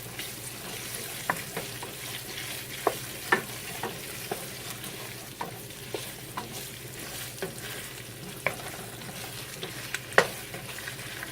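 Onions frying in oil in a pot for oxtail stew: a steady soft sizzle with scattered light scraping clicks from stirring, moderately quiet and close, with no voices.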